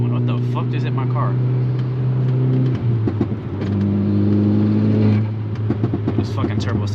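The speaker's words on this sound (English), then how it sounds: "This fucking turbo sounds amazing," A tuned Volkswagen Golf R with a turbo engine accelerates hard on the road, the engine note rising and shifting, heard from inside the car with people talking over it.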